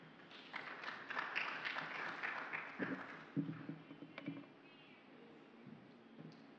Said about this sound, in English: A round of applause to Sophie Hilithau